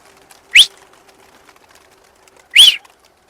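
Two brief, separate bursts about two seconds apart, close and fairly loud, from pigeons taking flight during a flying session, with near silence in between.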